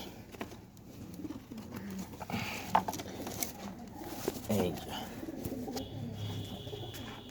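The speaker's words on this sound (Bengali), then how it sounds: "এই দেখেন, এটা একটা মাদি কবুতর।" Soft cooing from a female pigeon comes and goes amid quiet room noise, with a few faint bird chirps scattered through.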